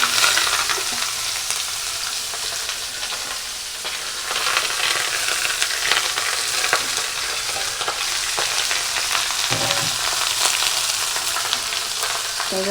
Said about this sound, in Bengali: লাউটা কুচিয়ে রেখেছি আগে, দিয়ে দেবো এখন ঢেলে।